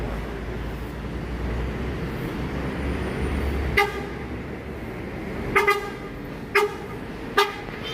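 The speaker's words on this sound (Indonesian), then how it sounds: "rame sekaligus masuk apa namanya, konvoy bus Sumatera bermacam merek" A convoy of Sumatran intercity buses of various makes rolls into a bus terminal over a low engine rumble, with four short, loud horn toots spaced out toward the end.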